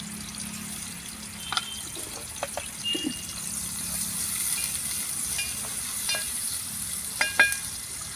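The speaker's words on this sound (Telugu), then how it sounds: "ఉల్లిగడ్డలు వేసుకుంటా పచ్చిమిరపకాయ ముక్కలు వేస్తానా" Chopped onions and green chillies fry in a pan, giving a quiet steady sizzle with scattered clicks and light scrapes of stirring, close but soft, without speech.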